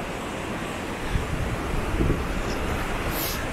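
Sea waves at Praia Brava beach in Florianópolis, a beach with a strong rip current, roar in a steady broadband wash with heavy wind buffeting the microphone and a slightly louder surge midway; no talking.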